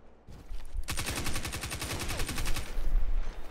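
Gunfire in a video game, a sniper rifle, rings out as a dense, loud stream of rapid shots lasting about three seconds, each report close and sharp, with no talking.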